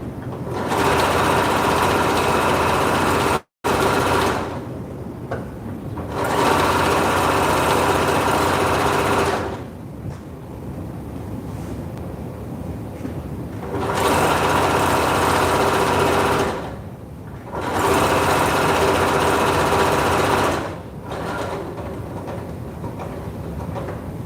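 A sewing machine top stitches along the edge of a blanket in several long loud runs, with short pauses between bursts of steady whirring.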